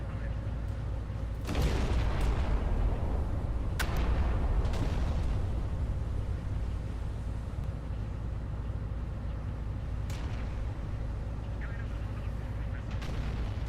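Scharnhorst battleship guns firing HE shells in Battleship Command, a few heavy booming blasts with rumbling tails, followed later by sharper distant reports, under a low steady hum.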